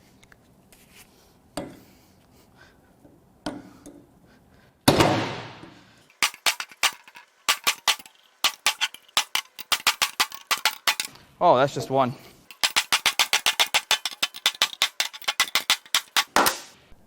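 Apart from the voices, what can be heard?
hammer striking socket on valve springs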